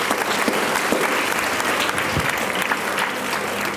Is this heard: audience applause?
yes